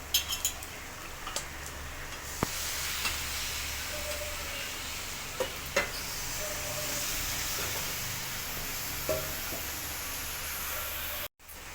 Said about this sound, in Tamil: கருவேப்பிலை கொஞ்சம் சேர்த்துட்டு இப்போ வந்து நம்ம க்ளீன் பண்ணி வச்சுருக்க சிக்கனை சேர்த்துக்கலாம்